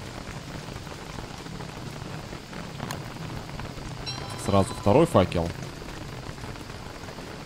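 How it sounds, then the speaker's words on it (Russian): Steady rain falls throughout in the video game Don't Starve, a constant hiss of drops under someone speaking Russian. "Что-то дождик не слабый"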